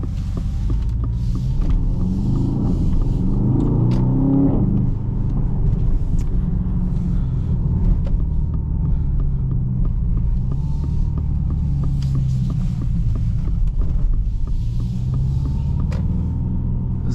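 A 2026 Aston Martin DBX S driving through suburban streets gives a low, rumbling engine note with a rising rev swell early on, then a steady deep drone heard from inside the cabin.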